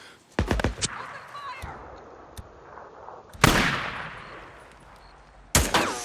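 Gunfire in the Days Gone video game: a few sharp, loud shots in quick bursts near the start, then a heavy blast midway and another sharp report at the end, with game noise and voices between.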